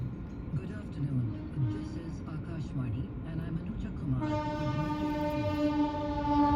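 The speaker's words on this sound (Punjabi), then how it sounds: "ਟ੍ਰੇਨ" A train rumbles and clatters past, then a loud, sustained horn blares over it for the last couple of seconds; people talk faintly in the background.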